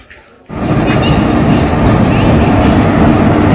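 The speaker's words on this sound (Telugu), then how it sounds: "సో ట్రైన్ వస్తుంది" A train rolls into a station with a sudden surge of loud, close rumble and rattling wheel noise after a brief quieter moment, holding steady to the end.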